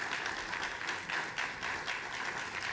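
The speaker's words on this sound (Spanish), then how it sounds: "Gracias. de nuevo a Glafira Rocha, por favor, un fuerte aplauso." An audience applauds steadily, a soft, even patter of many hands clapping at a moderate distance.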